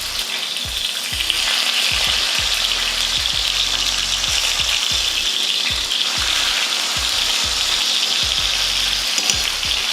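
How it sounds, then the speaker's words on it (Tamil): Fish pieces frying in hot oil in a pan, a steady loud hiss and crackle throughout with a repeating low thump of bubbling spatter, no voices. "இதே போல் மீதி இருக்கிற மீனையும் பொரிச்சு எடுத்துக்கலாம்"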